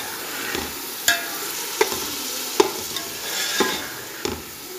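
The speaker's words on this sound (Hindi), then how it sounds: "10 मिनट आपने इसमें अच्छी तरह भुनाई करनी है चनों की।" Boiled white chickpeas fry and sizzle in a pot, with a steady hiss beneath them and several distinct stirring scrapes and knocks at irregular intervals. The sound is close and clear, and nobody speaks.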